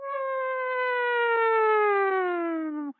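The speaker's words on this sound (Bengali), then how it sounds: "শুনতে পাচ্ছ? সাইরেন বাজছে।" An air raid siren sounds during a war-time scene, one long loud sustained wail that drifts slowly downward in pitch and then cuts off abruptly, heard alone and close.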